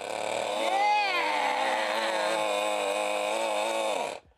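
A vintage toy pedal car's engine sound is revved hard, a buzzy rising whine that wavers in pitch for about four seconds and then cuts off abruptly.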